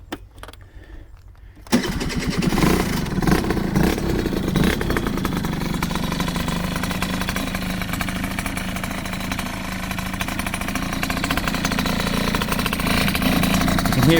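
A Japanese-style custom scooter engine starts up after a brief quiet moment, catching abruptly and settling into a loud, steady, buzzy idle that continues close by without talk.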